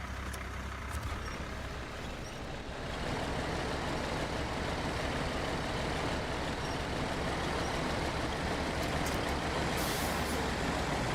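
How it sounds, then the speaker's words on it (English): A heavy truck in SnowRunner grinds through deep mud without winching, its engine roaring in a steady, dense drone that swells slightly after the first couple of seconds and holds loud and continuous to the end. "this is me purposely not winching to see if the truck can do it on its own"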